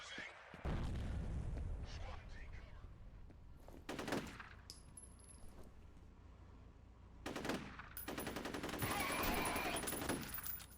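Gunfire and a grenade blast in the first-person shooter F.E.A.R., with bursts of automatic shots and booming hits coming in waves at moderate loudness under a steady game background.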